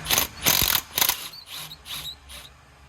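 An impact wrench spins on a car brake bolt that fails to grip during a brake job on a Vauxhall VXR, giving repeated rattling mechanical bursts, with louder ones first and then quieter, shorter pulses.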